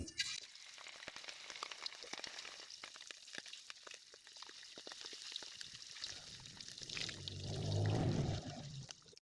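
Slices of Khmer num ansom cake fry in hot oil, giving a soft crackling sizzle that swells louder with a low bubbling rumble toward the end, with no talk.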